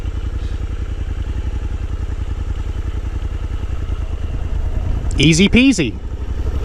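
A Suzuki V-Strom 800 DE motorcycle idles steadily up close, then pulls away smoothly without throttle, its engine a low continuous rumble; someone speaks briefly near the end.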